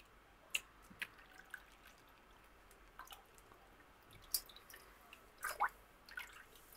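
Saltwater brine being poured over turnip pickle in a container, heard as scattered faint drips and small splashes, quiet and close, with no talking.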